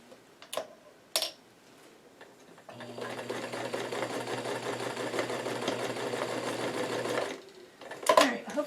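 A sewing machine stitches a newsboy cap in one steady, continuous run of several seconds, with a few handling knocks before it starts and again after it stops.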